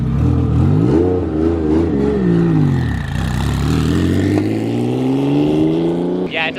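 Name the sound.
Porsche 997 Turbo engine revving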